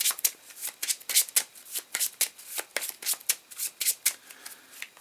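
Playing cards for a tabletop card game are shuffled close up, a rapid run of crisp riffling snaps and flutters repeating in quick bursts.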